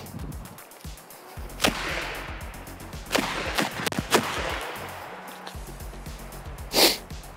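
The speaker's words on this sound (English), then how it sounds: "I'm not sure where those black powder shots went" Black powder shots from a tiny NAA Pug 22WMR mini pistol fitted with a Holosun red dot, several sharp separate cracks spaced a second or two apart outdoors, the last one loudest, with rustling and handling noise between them.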